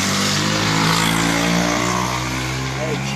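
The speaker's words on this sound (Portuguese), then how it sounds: "Desculpe pelo barulho, pessoal, que tu passa um tio de moto aqui" A motorcycle passes close by on a street, its engine droning loudly and steadily with a mid-pitched hum that dominates throughout while a person talks over it.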